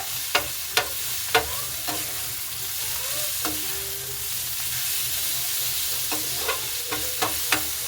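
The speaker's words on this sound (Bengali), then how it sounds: "একটু চিনিটা দিয়ে ভালো করে নাড়াচাড়া করে নেবো" Cauliflower stalk curry stirred in a pan after a little sugar is added, with steady sizzling frying and a series of sharp spoon scrapes and clinks against the pan, close and alone.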